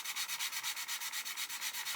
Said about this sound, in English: And you can sand that away just like so.